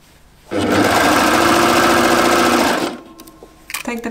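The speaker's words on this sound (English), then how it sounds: "And then you can just sew." A sewing machine runs a seam on a knit jumpsuit in one loud, close, steady burst of about two and a half seconds, then stops, followed by light handling clicks.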